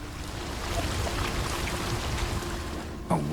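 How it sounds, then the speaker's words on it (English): A waterfall flows upward in The Witcher 3, giving a steady, broad rushing wash like pouring water that holds even and fairly loud throughout, then a brief sharper swell near the end. "A waterfall flowing upwards."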